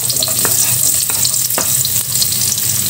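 Onion and garlic sauté in a hot pan of oil, a steady loud sizzle with occasional stirring scrapes and no talking.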